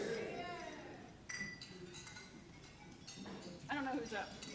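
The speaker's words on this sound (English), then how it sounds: "everyone raise a glass regardless of what you're drinking" Glasses clink together in a toast at an evening gathering, several bright chimes scattered through the room while people talk and cheer.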